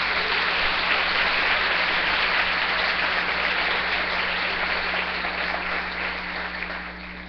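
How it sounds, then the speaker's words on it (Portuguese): Church congregation applauding strongly during a Sunday worship service, a dense, steady wash of clapping that stays loud throughout and eases slightly toward the end, with no voices over it. "Dê um forte aplauso a Jesus."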